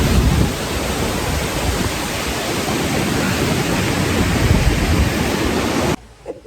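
A stream flows beside a crowded festival gathering at Kasartaka, a loud, steady broadband rush filling the scene before cutting off abruptly near the end.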